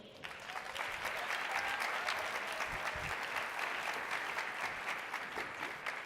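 Sustained applause from a convention audience at a national meeting, dense and steady throughout with no pause, filling the room at an even level.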